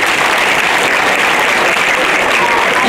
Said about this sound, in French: Donc acclamez-le très fort.